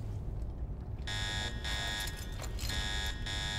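In Resident Evil 6, a harsh electronic alarm kicks in after a second of low rumble, blaring in loud pulsing bursts with short gaps, steady and insistent.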